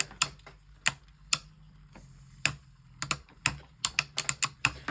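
Hasbro Beyblade Burst tops battle in a stadium, pitting Unicrest against a used Hurosood re-color. Sharp, irregular clacks of collision ring out close by over a faint, steady low spinning hum, with no talking.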